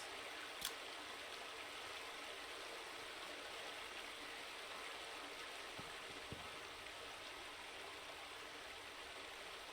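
A steady, faint broadband wash of stream water flows continuously through a wilderness scene in the survival video game The Last Plague: Blight, with a couple of tiny clicks and no voices.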